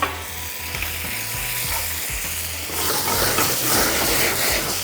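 Tomato puree hitting a hot pan of cooked chana, a close, steady sizzle that grows louder and hissier partway through, with soft stirring scrapes underneath and no voices.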